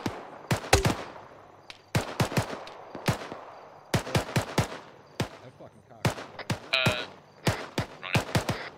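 Rapid gunfire in the ArmA 3 military game, sharp cracking shots in short bursts and single rounds, close and loud, repeating irregularly throughout with faint radio chatter underneath.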